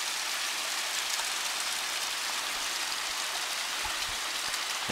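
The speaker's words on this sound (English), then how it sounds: "There's the waterfall." A waterfall in the Los Padres Mountains near Pine Mountain Club, California, gives a steady, dense hiss of falling and splashing water that fills the whole stretch without pause, and no one speaks.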